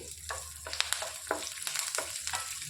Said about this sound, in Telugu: కొద్దిగా కరివేపాకు వేసుకోవాలి ఒక నాలుగు వెల్లుల్లిపాయలు కూడా వేసుకొని వేయించుకోవాలి